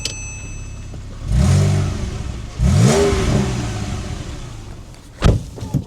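A 2012 Porsche 911 Carrera GTS with a six-speed manual and sport exhaust revs up close in two strong bursts, each climbing and falling, followed by a brief sharp blip near the end.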